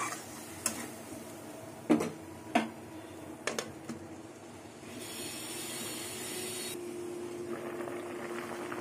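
Construction work from a neighbouring house comes through faintly from a distance as a few sharp metallic knocks and bangs, followed by a steadier grinding or scraping noise that runs for a couple of seconds.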